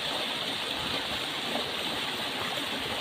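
Clear water streams steadily over rocks near a cave mouth, a continuous close rushing and gurgling with no pauses and no talk.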